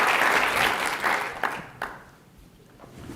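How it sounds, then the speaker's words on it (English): Conference audience at a health policy event applauds the panelists and moderator, loud clapping at first that thins into a few scattered claps and fades out. "Please give a round of applause to everyone."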